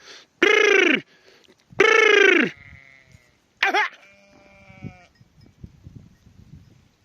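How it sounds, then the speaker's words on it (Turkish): Three loud, close sheep bleats separated by pauses, followed by faint rustling and a few quieter background calls. "Benim koyunlar hiçbir yere gitmiyorlar arkadaşlar."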